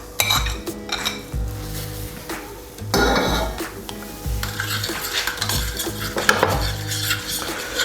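Ginger, garlic and green chili paste is mixed into chicken with a spoon in a metal bowl, producing repeated close clinks and scraping stirs in an uneven rhythm.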